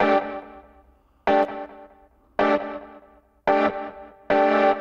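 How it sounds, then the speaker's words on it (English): Five short synth chords stabbing at a steady pace, each trailing off through delay and reverb with a wavering chorused shimmer; no talking. "Bit of delay. Some reverb. Some chorus going on here."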